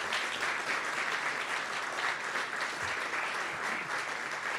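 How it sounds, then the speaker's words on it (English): A large audience applauds recipients at a high school senior awards ceremony, with steady, dense clapping that stays loud and even throughout. "One more huge round of applause for our recipients today."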